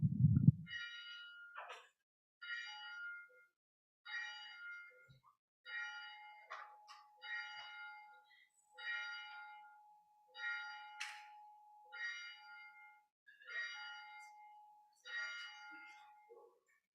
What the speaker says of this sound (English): We begin our service with the ringing of the bell and the lighting of the Christ candle.